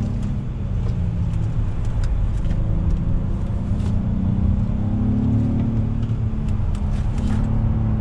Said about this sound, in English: let's do an acceleration test from a dead stop on throttle